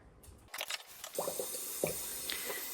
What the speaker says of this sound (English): I'm going to go ahead and fill this up with water.